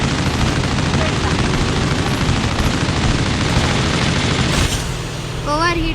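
Video game gunfire with unlimited bullets: dense, continuous automatic shooting fills the scene, a loud steady barrage that cuts off near the end, leaving a fainter bed of game sound.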